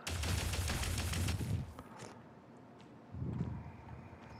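A freeze-element cannon in Tower of Fantasy fires a sustained barrage of booming blasts, loud for about a second and a half, followed by a quieter lull and a second short burst of fire.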